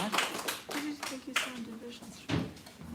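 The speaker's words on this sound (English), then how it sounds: "Please give a warm round of applause for our final feature, Harper Galvin." Audience applause at a live poetry reading in Bushwick, scattered hand claps and whoops mixed with a voice speaking over the crowd.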